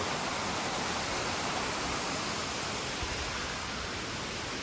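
Steady broadband rush of water at Nang Khuan Waterfall in Thailand, continuous and even with no breaks, heard alone without voices.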